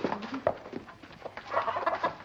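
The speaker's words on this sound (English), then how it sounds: "Robbie! Robbie, you want to see the chickens? You love chickens." Chickens clucking in a farmyard scene from a 1952 film, a busy run of short, irregular clucks and squawks from several birds, close and moderately loud.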